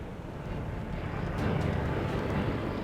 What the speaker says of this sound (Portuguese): Eu conseguia enxergar o avião claramente.